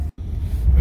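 A 1957 Ford Thunderbird engine with a new exhaust system rumbles steadily and low during a drive, close and continuous apart from a brief dropout.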